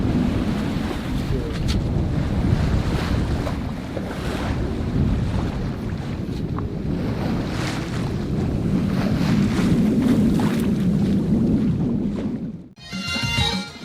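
Strong wind of about 11 to 12 knots buffets the microphone aboard a sailboat over a steady wash of sea and waves, continuous and loud throughout, briefly dropping just before the end.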